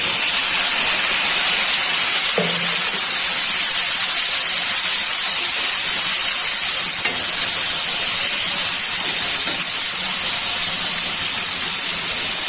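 Cumin and spices hit hot oil in a pan where fried onion and prawn legs cook for a bitter gourd dish, producing a loud, steady, close sizzle and hiss with a brief clink near the start.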